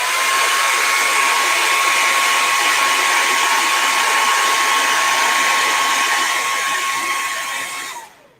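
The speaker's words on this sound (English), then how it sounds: "Let me just bring a hairdryer in real quick." A hair dryer at a comic convention hall blows loud and steady with a constant whine over rushing air for about eight seconds, then shuts off abruptly.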